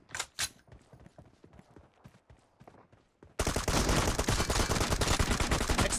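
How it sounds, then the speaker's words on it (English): Weapon reloading in a video game team deathmatch: a string of sharp metallic clicks and clacks, then a sudden loud wash of dense gunfire and noisy battle sound takes over the second half. "Reloading!"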